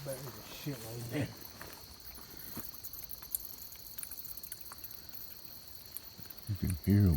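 Constant high-pitched chittering of bats at bat houses on a nature trail at Hickory Mound Impoundment, over outdoor background noise, with people's voices briefly at the start and end.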